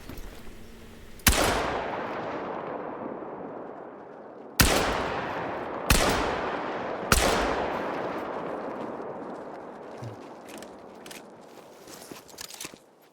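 Hunting rifle shots at turkeys in theHunter: Call of the Wild, four loud sharp cracks with long rolling echoes that decay over a few seconds, spaced irregularly amid faint outdoor ambience.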